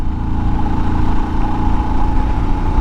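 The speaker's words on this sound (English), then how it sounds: "I'm just going to throttle up." A Royal Enfield Himalayan motorcycle held in third gear, throttling up a hill on pavement, giving a loud, continuous low engine drone that pulls steadily without a gear change.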